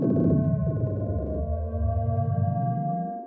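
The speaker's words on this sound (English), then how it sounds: "the sounds I'm having it make are the beacon activate deactivate sound" Minecraft beacon activate and deactivate sounds: a deep, throbbing synthetic hum with pulsing tones that sweep down and back up, layered and eerie, continuous for the whole stretch with no voices.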